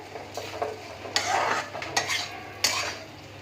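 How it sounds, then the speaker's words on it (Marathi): Chopped dosa pieces tossed with onions in a pan, several distinct metal-on-pan scrapes and clinks of a spoon mixing at close range, no voices. "आणि हे छान असं सगळं मिक्स करून घेऊया"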